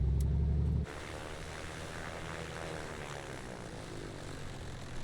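A Piper Comanche propeller plane taxiing in Microsoft Flight Simulator, its engine a steady droning hum throughout, with a louder low rumble at the start that quickly drops to a lower idle.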